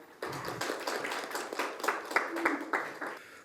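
Audience applause welcoming the moderator of a panel discussion on Seoul innovative education districts, a short burst of mixed clapping with a few distinct taps, moderately loud, rising quickly and then thinning.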